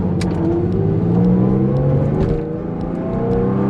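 A modified, supercharged Porsche 996 engine with aftermarket exhaust revs up close by, its loud, throaty roar climbing in pitch and then easing off.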